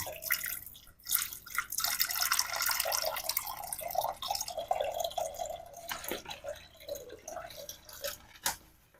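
Water, 460 grams measured for sourdough bread dough, pours into a bowl as a continuous trickling, splashing stream with dripping at the start and end, close and moderately quiet.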